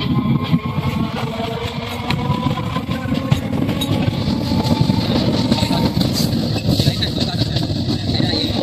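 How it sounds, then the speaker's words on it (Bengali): A train rolls into platform 1 at Namkhana station with a continuous low rumble and engine drone throughout, and voices are faintly audible beneath the noise. "ট্রেন এখন 1 নম্বর প্ল্যাটফর্মে ঢুকিয়েছে।"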